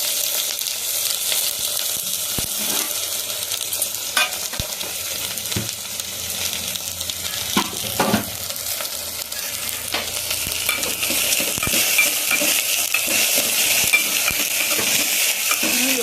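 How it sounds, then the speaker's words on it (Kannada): Turmeric hits hot oil for a quick okra sambar, a steady close sizzle of frying with scattered scrapes and clinks of a spoon stirring in the pan, no voices. "ನೋಡಿ ಚುಕ್ಕೆ ಅರಿಶಿನ ಹಾಕ್ತಾ ಇದ್ದೀನಿ"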